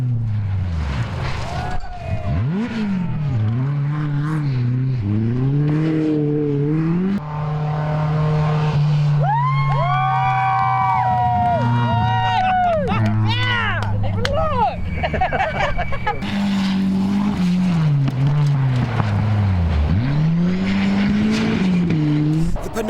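Rally cars at the 2006 Silver Fern Rally race past, engines howling and sweeping up and down in pitch with tire squeal and skidding, loud and continuous with a voice talking over them.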